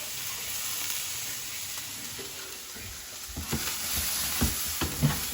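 Onions frying in a pan for homemade burgers give a steady close sizzle and hiss, joined in the second half by several soft scraping stirs of a utensil.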